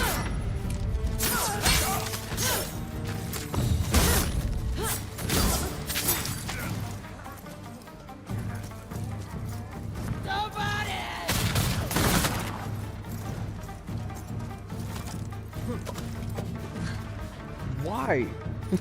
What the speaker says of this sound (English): now we got people throwing bombs at me